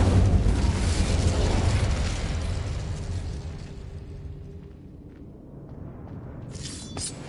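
A fiery Incendio spell cast in the Hogwarts Legacy video game erupts as a loud, broad whooshing blast, then dies away over several seconds, with a faint crackle rising near the end.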